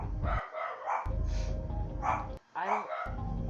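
A dog barks in several loud, close bursts, with a whimpering yip between them, while a person talks over the noise indoors.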